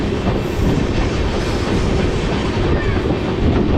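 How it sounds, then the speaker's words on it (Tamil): Chennai–Calicut express train 12685 running at speed on its tracks, a loud, continuous roar of wheels and carriage rumble heard from on board, with a steady rolling clatter throughout. "ட்ரெயினோட ஸ்பீடு உண்மையிலேயே ரொம்ப சூப்பராகவே போயிட்டுருக்கு"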